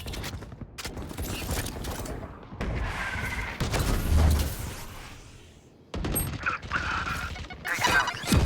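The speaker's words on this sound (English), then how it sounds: "Reloading." Metallic clicks and mechanical clacks of a weapon reloading in a video game come in bursts, with bursts of gunfire and crashes mixed in.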